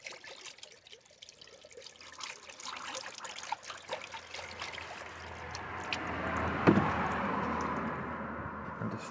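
Antifreeze is poured into a car's coolant tank, a soft trickling and gurgling that swells gradually and peaks near the end.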